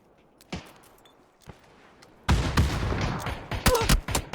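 Rapid gunfire bursts and scattered single shots in a competitive shooter video game match, a few isolated shots at first, then a dense sustained volley of overlapping automatic fire.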